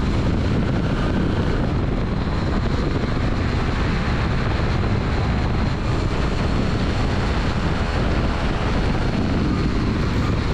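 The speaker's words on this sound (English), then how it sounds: "As I'm rolling down the taxiway here" An Aerolite 103 ultralight aircraft fitted with upgraded bush gear taxiing down a taxiway, a loud steady engine drone mixed with wind rush, heard from on board with no talking.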